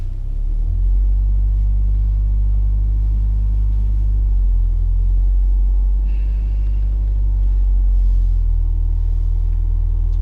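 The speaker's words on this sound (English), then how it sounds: "Now that rev noise, keep that the same." A petrol car's engine held at raised revs, a loud, steady low rumble from inside the cabin that stays nearly constant, with a slight dip and swell midway.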